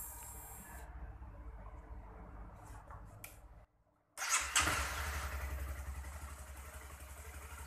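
A Honda CRF250L motorcycle engine idles softly, cuts out briefly, then restarts and rises in a quick rev before settling back to a steady idle, recorded close at a low level.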